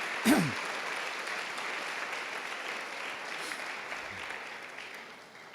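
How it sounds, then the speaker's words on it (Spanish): A church congregation at a morning Spanish-language service gives a round of applause, a soft, steady wash of clapping heard from a distance and continuing throughout. "Le damos un fuerte aplauso, hermanos, a nuestro Señor esta mañana"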